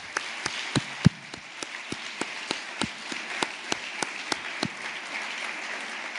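Audience at a Spanish conference on transparency and corruption gives collective applause for the panel speakers, heard as a steady wash of scattered claps with sharper individual hand claps standing out, moderately distant and without talk.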